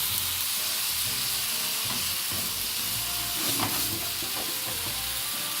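A stir fry sizzles steadily in a hot pan while it is stirred, giving a continuous loud hiss with soft scraping and clattering underneath.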